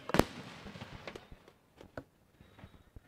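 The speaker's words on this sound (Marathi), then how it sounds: "फटाक्यांची आतिषबाजी होते." Fireworks and firecrackers at a local cricket tournament match, one loud sharp bang followed by a scattered series of fainter pops and crackles over about three seconds.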